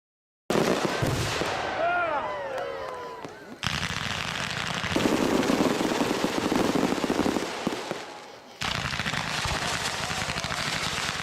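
A firework cake goes off over and over during a house fire, rapid loud crackling bangs and whistling bursts in dense volleys with brief pauses between them.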